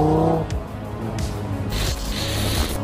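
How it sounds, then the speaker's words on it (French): An Audi RS3 engine and turbo: the car revs with a throaty, shifting engine note and a rushing hiss from the turbo, close and loud for a few seconds with no talking over it. "Là j'ai entendu le turbo, j'ai entendu le bruit que ça fait."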